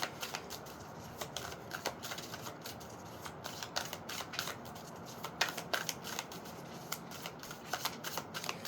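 Tarot cards are shuffled by hand in a quiet room, with a close, soft run of rapid riffling flicks and small taps that go on unevenly throughout.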